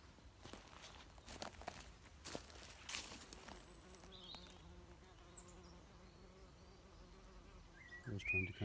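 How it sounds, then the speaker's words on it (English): A bee buzzes among the plants of a vegetable garden plot, with a faint continuous drone under rustling and a few footsteps, then a louder close burst near the end. "I was trying to catch a bee there"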